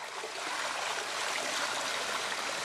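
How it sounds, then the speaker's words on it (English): Water trickling and splashing steadily from a Bakki shower trickle filter on a koi pond, a continuous close hiss of falling droplets with no voices. "So Bakki shower, trickle filter."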